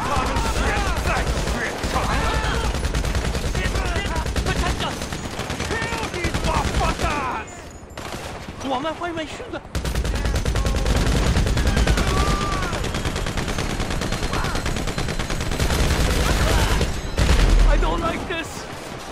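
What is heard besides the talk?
gunfire in the video game GTA V Online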